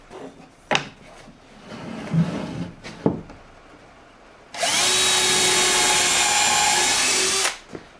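A power drill drives a screw to fasten a French cleat holder with its wedge facing down, a loud steady whirring run of about three seconds, preceded by sharp knocks and handling clatter of wood and parts, close by with no talking.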